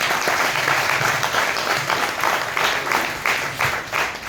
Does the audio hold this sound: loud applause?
yes